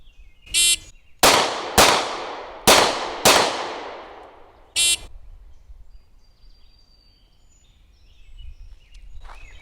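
Four loud, sharp pistol shots from a Springfield Hellcat semi-auto ring out in quick succession at a range, each with a decaying echo. A shot-timer beep comes before and after the shots.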